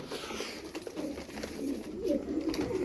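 Pigeon cooing, a Turkish tumbler-type bird, gives soft repeated low coos over a steady hum, close by and moderately loud with no talk.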